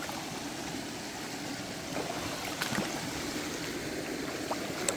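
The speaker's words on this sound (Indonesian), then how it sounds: "kita bakal ngelewatin sebuah sungai" A small river being crossed on foot during a trek, with continuous close rushing and trickling water and a few soft splashes and knocks partway through.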